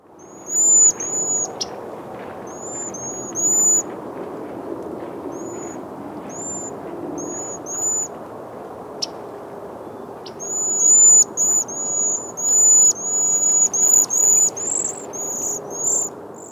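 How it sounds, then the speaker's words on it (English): Thin, high-pitched cedar waxwing call notes repeat in short bursts, clustering more densely toward the end, above a steady low background hiss. "Cedar waxwings are often heard before they're seen, so learn their high-pitched call notes."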